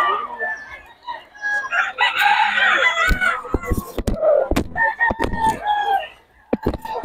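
A sweater hatch gamecock rooster crows repeatedly at a busy Bocaue market, loud and close, with other birds clucking and sharp handling knocks nearby.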